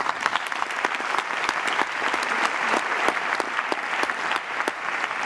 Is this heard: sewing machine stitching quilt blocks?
no